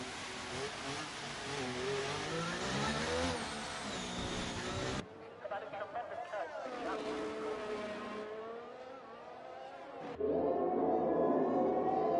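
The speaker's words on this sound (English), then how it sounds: "The drivers now out on their out laps." Race car engines in a racing video game at Monaco during out laps, loud revving that rises and falls through gear changes, with abrupt cuts between cars and one stretch briefly quieter.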